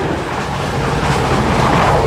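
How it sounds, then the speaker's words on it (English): A train passes by a classic car show at Powderham, its wheels rumbling and clattering in a steady, loud rolling rush that builds slightly toward the end. "Train coming through."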